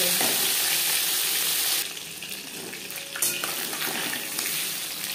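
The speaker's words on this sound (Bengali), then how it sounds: "এবার দিয়ে দেবো ম্যারিনেট করে রাখা মাছ। আমি রান্নাটা রিফাইন্ড অয়েলে করছি" Marinated shol fish frying in refined oil in a pan gives a loud, dense hissing sizzle that drops after a couple of seconds into a steadier, slightly quieter crackle.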